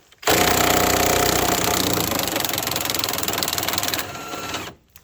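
A cordless impact wrench running on a nearly dead battery works at nuts on a car being stripped for parts, making a steady loud rapid hammering rattle for about four seconds before it cuts out, close up and with no talk.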